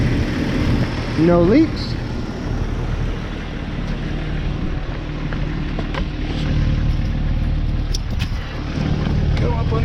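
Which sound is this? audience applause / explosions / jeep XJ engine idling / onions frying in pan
jeep XJ engine idling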